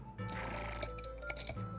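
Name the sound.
horse neighing in video game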